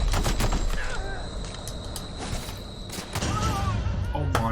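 Rapid automatic weapon fire in The Outer Worlds, a dense stream of shots through most of the stretch with a brief lull, accompanied by chirpy in-game effects and some voice.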